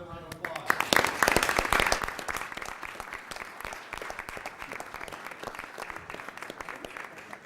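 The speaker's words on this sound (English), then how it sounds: "Ladies and gentlemen, let's have another round of applause." An audience at a city council meeting breaks into applause that swells quickly and then settles into steady, sustained clapping, mid-distance, with voices murmuring and talking underneath.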